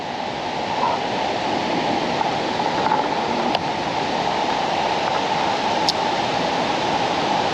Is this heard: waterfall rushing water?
yes